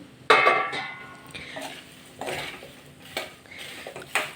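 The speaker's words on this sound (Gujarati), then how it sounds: "હવે આપણે જે આ મિશ્રણ તૈયાર કરેલું છે ને ધાણા અને આપણા મમરા એને હલાવી લેશું" A coriander and puffed rice mixture stirred in a pan over low heat, with a few scattered metallic scrapes and clinks of a spoon against the pan, close and intermittent.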